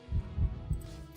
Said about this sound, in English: There's a heart beating in ambient